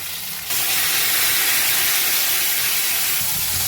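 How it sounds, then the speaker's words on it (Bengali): Ground turmeric frying in hot oil for a fish curry, giving a steady loud sizzling hiss that rises abruptly and continues without pause. "হলুদটা দিয়ে আগে ভালোভাবে ভেজে নেব"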